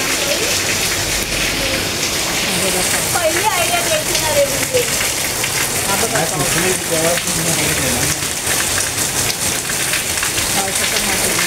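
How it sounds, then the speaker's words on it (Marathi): Steady rain falls on outdoor surfaces during a Diwali celebration at home near a rangoli, a dense continuous hiss that stays loud throughout while people talk over it. "आजच पाऊस आला गाईज नेमका"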